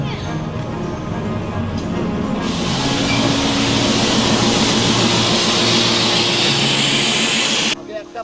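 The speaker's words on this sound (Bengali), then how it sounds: "সেটা কিন্তু নান other than Darjeeling Himalayan toy train." The Darjeeling Himalayan toy train rumbles through Rongtong station in the hills, a loud continuous engine roar and track noise heard close up that swells, holds steady and cuts off near the end.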